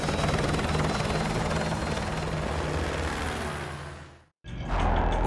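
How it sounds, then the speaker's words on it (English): Video-game military helicopter thrumming loudly and steadily with a broad rotor roar, cutting out abruptly near the end before a brief burst of rumbling noise returns. "I'll brief you on the chopper."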